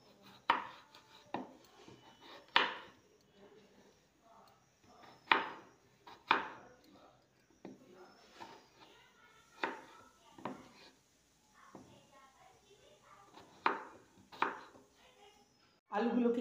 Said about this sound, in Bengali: এরকমভাবে কেটে নেব প্রত্যেকটা আলুকে